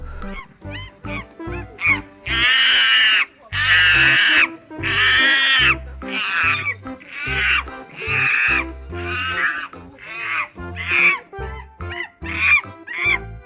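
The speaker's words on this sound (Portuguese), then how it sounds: "Barulhos e sons de macacos." Monkeys make noise in a long run of loud, close, repeated hooting and honking calls, some drawn out and others short, with no talking.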